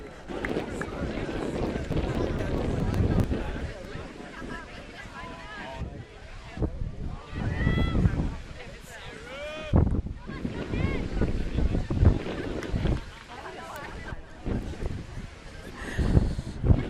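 Strong gusty wind buffeting the microphone at an outdoor ultimate frisbee final, rumbling in heavy, uneven surges while people talk over it throughout.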